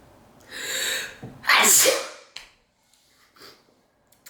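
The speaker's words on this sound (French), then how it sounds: "Je vais éternuer." One loud, close sneeze: a sharp intake of breath followed by a forceful burst, then a couple of quieter sniffs.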